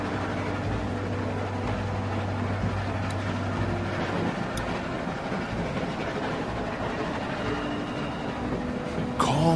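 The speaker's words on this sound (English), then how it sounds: "Stop the train." A train rumbles steadily along in the video game The Walking Dead, a continuous low mechanical roar with faint clattering, ending in a brief sharp burst; no talk.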